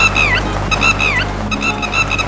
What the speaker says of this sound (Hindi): वो चिड़िया इतनी जोर से चिल्ला क्यों रही है?